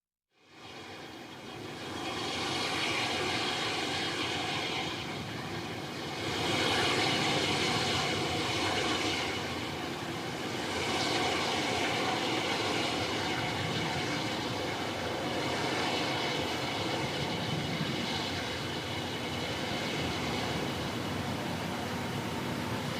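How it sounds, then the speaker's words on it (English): The Blue Engine 3 burns on a New Shepard rocket during a Blue Origin launch, a continuous broadband roar that swells in fast and holds steady with gentle surges for over twenty seconds, with no voices. "A nominal flight, a clean burn on our Blue Engine 3."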